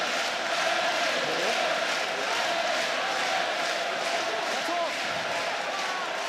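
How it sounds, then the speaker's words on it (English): Steady roar of a large stadium crowd at a France v Japan rugby match, broad and continuous throughout with rising swells, likely the crowd attempting a wave amid a party atmosphere. "There you go, the crowd."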